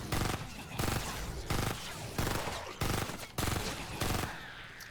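DeathStalker gun firing in Fortnite Save the World, with loud rapid bursts of shots about every half second, close and punchy, without talking.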